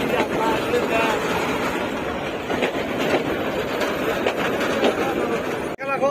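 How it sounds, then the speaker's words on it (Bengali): A local train rolls into a village station in Sonatola, a steady loud rumble and clatter of wheels and wagons that fills the whole stretch, with faint voices in the background. "তো গাইজ ট্রেন আসে পড়ছে এখন ট্রেনে উঠে পড়বো"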